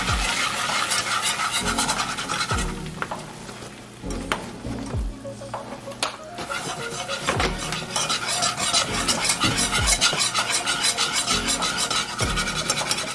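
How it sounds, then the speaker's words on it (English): A whisk rasps and scrapes against a pan as flour is beaten into a melted mixture, with a steady stream of rhythmic strokes and a faint sizzle running throughout, and no voices. "I'm only going to whisk it until all of the flour is broken up and there are no more clumps in here."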